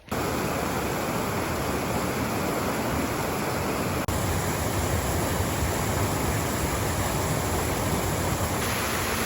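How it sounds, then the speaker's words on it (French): Waterfall near Taranaki, New Zealand, pouring as a steady, loud, broadband roar of falling water, close and unbroken for the whole stretch, with no voices over it. "Regardez comment on est chanceux, on a vu notre cascade."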